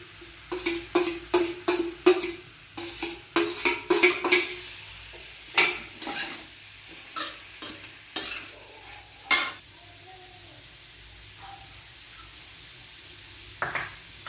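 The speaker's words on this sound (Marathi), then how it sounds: "छान मिक्स करून घ्यायची." Momo filling of capsicum and grated carrot being stirred in a pan, a run of sharp, close scraping strokes in quick bursts that thin out into occasional single stirs over a faint background.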